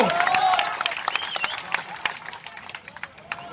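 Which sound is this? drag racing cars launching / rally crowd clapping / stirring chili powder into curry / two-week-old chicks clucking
rally crowd clapping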